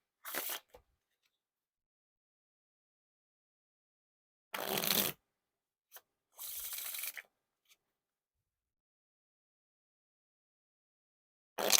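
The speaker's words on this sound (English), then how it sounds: "Now for the riffle shuffle or bridge shuffle." Crisp bursts of a deck of playing cards riffle shuffled together, a few short flurries separated by silence, close and clear.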